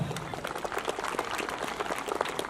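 Sustained applause from a large audience at a school awards ceremony for hundreds of award-winning children, a steady wash of many hands clapping at moderate loudness.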